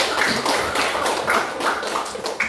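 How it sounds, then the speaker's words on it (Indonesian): Students in a classroom clap for a classmate, a loud, rhythmic series of claps struck roughly in unison with a steady beat. "Tepuk tangan untuk Suji"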